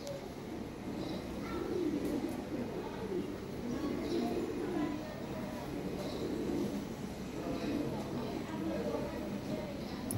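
Lahori Sherazi pigeons, an imported ring bloodline pair, coo in a low, steady murmur throughout, with other birds faint in the background and someone talking over them.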